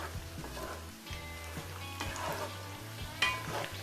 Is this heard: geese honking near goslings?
no